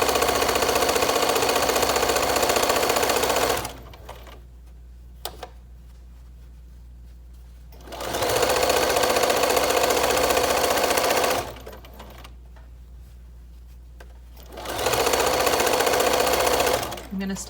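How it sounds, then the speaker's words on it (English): A sewing machine stitches down the length of a fabric mask tie, loud steady whirring runs of rapid needle clatter in two long bursts separated by quiet pauses. "And now I'm going to stitch down the length"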